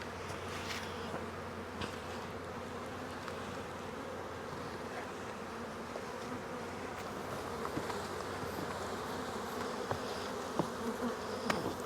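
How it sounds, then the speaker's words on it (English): Honeybees from a nuc being installed into a hive, a continuous close buzzing swarm hum with occasional light knocks and handling sounds, no talking. "now there's a lot of bees in here still."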